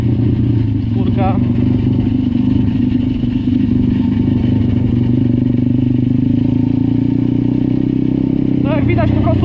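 A pit bike is ridden calmly during break-in, its engine droning steadily and loudly throughout with clattering mechanical noise, while someone talks over it.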